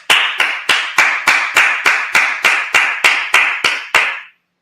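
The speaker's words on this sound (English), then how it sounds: "Clap it up." A congregation at a Sabbath service claps about a dozen loud, sharp claps in an even, steady rhythm before stopping abruptly.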